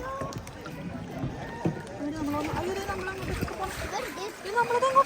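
Kayak paddling on water in Goa, with soft paddle strokes and gentle splashes heard close under steady talking.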